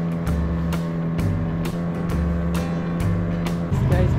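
A small outboard-powered dinghy crosses calm water from Cooper Island to Salt Island, its motor droning steadily and close with rhythmic hull slaps and splashes, with faint voices in the background.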